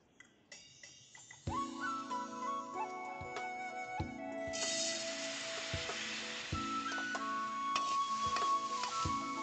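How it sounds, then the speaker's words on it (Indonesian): Mung beans sizzle and crackle as they fry in an iron pan, with a steady hiss and occasional clinks and stirring scrapes throughout. "Goreng dulu kacang hijau dalam panci besi."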